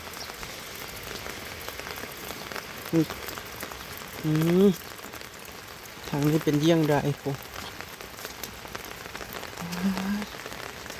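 Heavy rain pours steadily onto a house roof and surfaces, a dense continuous hiss throughout, with people talking intermittently over it.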